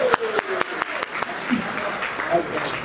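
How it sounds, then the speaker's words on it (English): Applause from a conference audience at a Toronto annual business conference on a Saturday, with scattered claps over a steady crowd wash, mixed with voices throughout. "this next applause has to be for how you all feel being here today"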